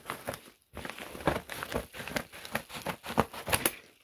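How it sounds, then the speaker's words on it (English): Scissors snip open a small paper mail envelope, giving a run of close, crisp crinkling and cutting bursts with a brief pause near the start. "the easiest way to open these little envelopes here is a pair of scissors"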